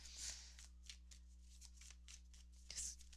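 A deck of cards being shuffled and a card drawn for a reading, two brisk riffling bursts framing softer rustling and flicks, close and fairly quiet, with no voices.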